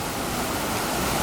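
Water rushing over a weir at the upper end of a canal lock on the old Welland Canal, a steady broadband roar heard from behind a fence, continuous and even throughout with no voices.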